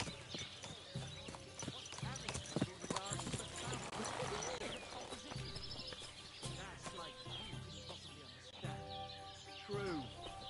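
Horse hooves clip-clopping at a walk in Kingdom Come Deliverance 2, steady close footfalls over ambient outdoor sound with a brief whinny, birds chirping and people talking in the foreground.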